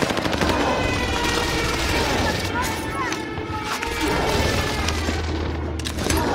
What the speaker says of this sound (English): Come on, enemy precision airstrike!